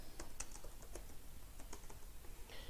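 Fingers tap quickly on a computer keyboard, hitting keys including Enter in a fast, uneven run of crisp, close clicks at low volume.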